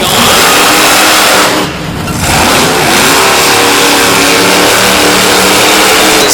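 A monster truck engine revs hard at a monster truck show in Brookville, Pennsylvania, loud and close. A brief dip in the roar comes partway through before it surges back to full power.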